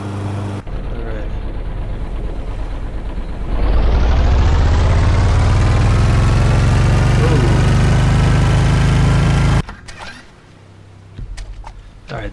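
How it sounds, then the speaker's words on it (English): A motorboat-style raft engine in the survival game Stranded Deep drones loudly and steadily. It rises to a heavier roar partway through, holds, then cuts off, leaving quieter background noise. "the engine's pretty loud"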